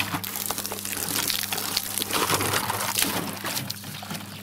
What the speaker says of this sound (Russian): Вот здесь Полина у нас набирает банки.